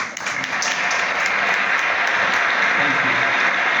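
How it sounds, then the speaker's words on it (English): An audience bursts into sustained applause on cue, many hands clapping loudly and evenly for several seconds, with voices mixed into the crowd noise. "If I say wapi makofi, they will clap."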